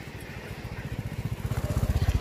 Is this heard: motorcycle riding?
yes